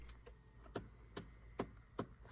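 Faint, regular clicking from the dashboard of a Ford Flex, sharp ticks recurring about every 0.4 seconds like a clock over a low background hum.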